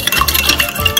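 A whisk beats sugar into a liquid in a homemade ant-killer mix, giving a brief, close, brisk scraping and swishing stir.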